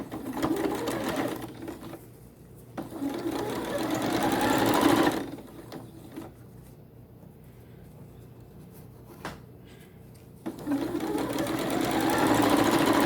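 Sewing machine stitching the inseam of T-shirt shorts, several bursts of close, rapid needle clatter and motor whirr separated by quieter pauses, with a faint tap in between.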